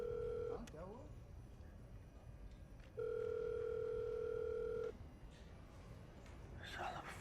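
Ringback tone of an unanswered phone call to a police control room in a Hindi film: a brief steady electronic tone, a pause, then a longer two-second tone, fairly clear against a quiet background.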